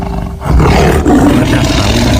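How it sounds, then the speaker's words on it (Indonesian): A lion gives a deep, powerful roar that starts after a brief breath and holds loud and sustained to the end, close and dominating, with no talk. "Singa, raja hutan, menarik napas dalam-dalam dan meraung begitu kuat"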